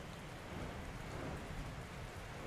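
Steady rain in the Panzer Dragoon video game under a dark sky, a constant dense hiss with low rumbling beneath, fairly quiet and continuous with no talking.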